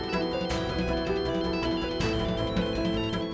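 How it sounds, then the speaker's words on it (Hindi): A phone rings in a steady repeating ringtone, a bright electronic melody pulsing loudly and continuously with no talk over it. "फोन बज रहा है"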